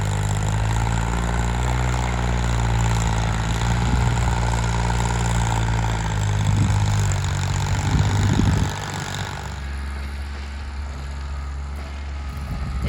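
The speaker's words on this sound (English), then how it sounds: "It makes such quick work when you have a tractor" A tractor engine runs steadily while breaking up garden ground for planting, a loud, close low rumble with a slight swell in revs before dropping to a quieter, even idle near the end.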